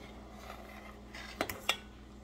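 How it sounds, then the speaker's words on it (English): A spoon knocks lightly against a pot of kumquat syrup while stirring, with a few faint scrapes followed by two or three sharper clinks over a low steady hum. "Let's just stir it a little."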